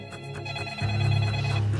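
Telephone ringing with a fast trilling electronic bell, two ring bursts back to back, close and clear with no talk over it.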